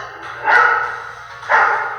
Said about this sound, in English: He's just a very happy-go-lucky dog.